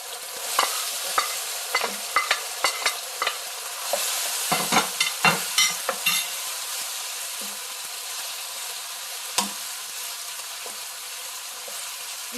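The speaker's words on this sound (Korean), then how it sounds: "그 다음에 나머지 야채를 다 넣을게요" Vegetables tossed into a hot pan for nanjawanseu, Chinese-style meatballs, sizzling loudly while a spatula scrapes and stirs in quick, irregular strokes, then settling into a steady fry.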